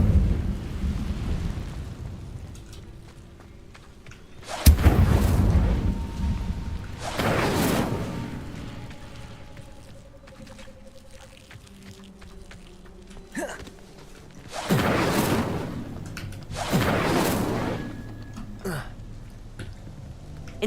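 Fire spell bursts in the game Hogwarts Legacy: several loud whooshing, crackling blasts around five, seven and a half, fifteen and seventeen seconds, each flaring and fading, with quieter magical tones and ambience between them.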